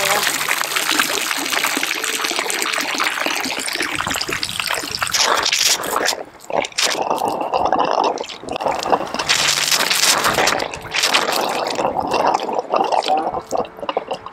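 Raw water washdown sprayer on a Ranger Tug R27 boat running during winterizing, a hissing spray of water with splashing that cuts out briefly midway and resumes, while people talk nearby.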